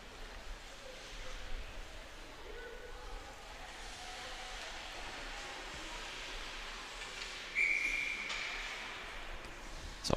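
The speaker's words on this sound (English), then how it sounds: "And in on goal, Haley Hansen will take the whistle." Referee's whistle in a U16 girls' ice hockey game, a short high shrill blast around seven and a half seconds in, heard over steady, hollow arena noise with no talk.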